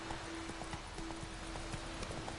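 Roach the horse walks along in The Witcher, hooves clip-clopping in a steady, even rhythm, close and clear over a low background hum.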